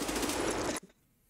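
Rapid automatic gunfire in a video game, a dense sustained burst lasting under a second that cuts off abruptly into near silence.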